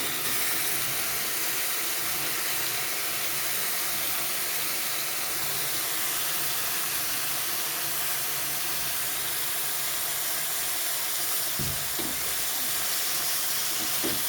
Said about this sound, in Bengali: এভাবে আমি বাঁধাকপিটা ভেজে দেবো দেখো